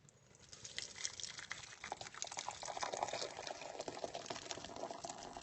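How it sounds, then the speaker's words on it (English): Homemade lilac syrup pours into a pint jar, a soft continuous trickle with faint splashes, quiet and close. "I'm getting a little splash on the counter"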